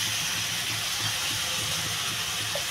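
Potatoes go into sautéed eggplant in a hot pan for a Bengali potato-eggplant curry, giving a steady, close hissing sizzle that stays constant and fairly loud throughout with no speech.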